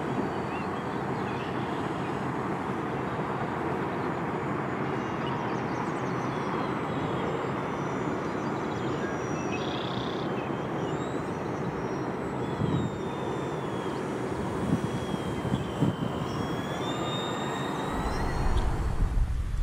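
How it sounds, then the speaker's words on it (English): A Flite Test Widgeon RC seaplane takes off from water at half throttle, a faint, steady electric motor whine heard from a distance, with a louder rush of water or wind near the end. "There's another half throttle takeoff."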